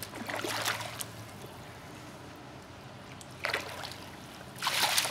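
A small child splashing in water: bursts of splashing near the start, at about three and a half seconds and again at the end, separated by quieter lapping and trickling, close and moderately loud.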